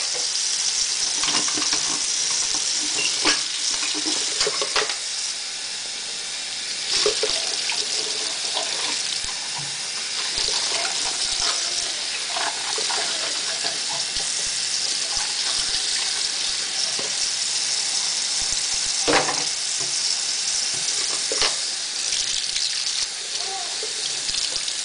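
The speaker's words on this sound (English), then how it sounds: "Happy Mia washing the dishes." Dishes being washed under a running tap, a steady hiss of water with faint clinks and splashes of handling, continuous and close throughout.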